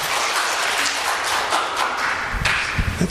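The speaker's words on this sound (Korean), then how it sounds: "so please applaud" A church congregation applauding during a Sunday worship service, dense continuous clapping throughout with a few sharper claps standing out toward the end.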